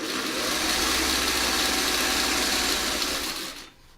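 Close sewing machine running continuously while joining navy quilt pieces, a steady fast mechanical hum and rattle that winds down and stops just before the end.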